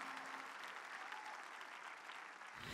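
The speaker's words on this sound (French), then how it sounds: "Applaudissons pour l'Éternel." A church congregation applauds during a candlelight service, a dense, steady wash of clapping that holds at an even level throughout, with no voices standing out.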